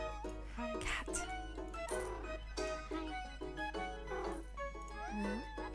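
Cartoon cat meowing in the cozy street-management game Minami Lane, a few short mewing calls rising over steady upbeat background music and game chimes, no talking.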